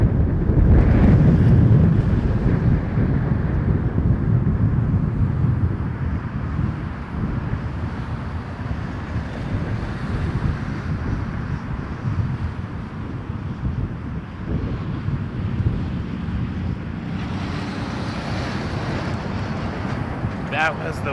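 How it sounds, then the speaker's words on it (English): Wake turbulence from a departing Air Canada airliner at Toronto Pearson buffets the microphone, giving a loud rumbling gust that fades into steady wind roar, with a voice talking over it. "it blows the wake, the little vortices that the wings make, directly onto me"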